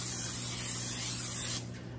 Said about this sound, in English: I'm gonna spray that with some no-stick spray.